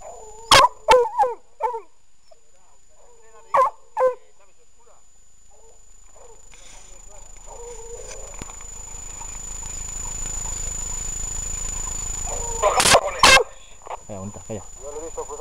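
A hunting dog during a wild boar hunt, with several sharp barks and yips near the start and again later, separated by quiet gaps and a rising outdoor rumble, with people talking at times.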